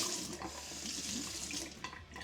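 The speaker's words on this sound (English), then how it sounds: "we have to rinse this stuff off" Tap water runs steadily over a plastic brewing bucket lid as it is rinsed, a continuous close splashing hiss with a few brief knocks near the end and no voices.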